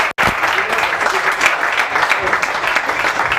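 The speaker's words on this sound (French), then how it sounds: "Est-ce qu'on peut encore l'applaudir," Comedy club audience applauding a stand-up comedian, loud close clapping that starts abruptly after a brief cut and carries on steadily without a pause.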